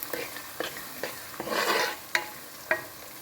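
Halved green chillies sautéing in a pan while an amla pickle is being made. Close metallic spatula scrapes repeat through a soft sizzle, and a louder burst of frying hiss rises midway. No one speaks.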